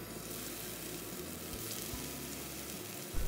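Halibut frying in a little oil in a pan with ginger slices and scallion whites over medium-high heat, a steady dense sizzle close by with no talk.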